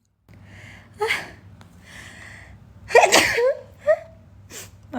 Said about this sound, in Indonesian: Maaf guys bersin.